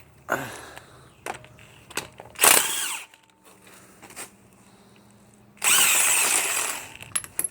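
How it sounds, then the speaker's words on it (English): A power tool, likely an impact wrench, spins off the last wheel nut on a jacked-up 2002 Toyota Camry during brake work, giving loud, short bursts of whirring and rattling, one near 2.5 seconds and a longer burst near 6 seconds. "Let's get our last nut off here."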